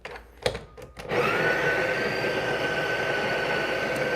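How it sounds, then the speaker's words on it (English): A Breville Barista Pro or Express coffee grinder grinding beans, starting with a few short clicks before a loud, steady whirring drone that runs on evenly and close by. "so I set a 19-second grind time, okay? 19 seconds. It's counting down."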